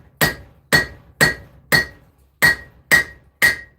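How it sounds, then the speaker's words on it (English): Ball peen hammer forging a knife blade on an anvil, seven sharp ringing metallic strikes in a steady rhythm with a short gap midway, close and loud with no talk. "I'm going to need the ball peen. It works better, I think. It really spreads the material a lot better."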